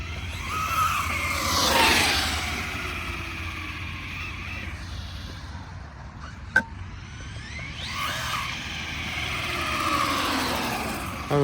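A Rustler RC truck on a gravel track, its high electric whine surging twice as it passes close and pulls away, with a sharp clack midway and gravel crunch underneath.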